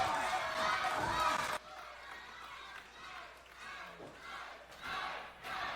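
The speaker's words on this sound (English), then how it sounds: "And listen to the crowd. They are getting behind Ice Williams." A wrestling crowd at a main event cheers loudly for a moment before the roar cuts away to lower crowd noise, with a commentator talking over it.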